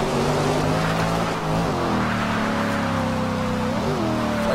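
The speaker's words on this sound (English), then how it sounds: "Clutch kick on that third gear is just ruthless" A car engine in Forza Horizon 2 roars loud and continuous as the clutch is kicked in third gear, its pitch dipping and climbing through the revs.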